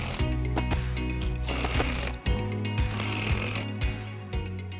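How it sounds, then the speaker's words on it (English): Screws are driven into Trex Transcend composite decking board with a power driver, bursts of whirring and ratcheting in short repeated runs, close and loud. "And I'm gonna go ahead and put my screws in here."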